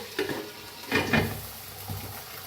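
A spatula scrapes and tosses potatoes with fresh curry leaves in a pan, giving a few short, distinct stirring strokes over a soft background hiss.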